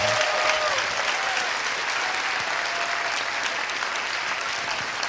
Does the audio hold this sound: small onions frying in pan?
no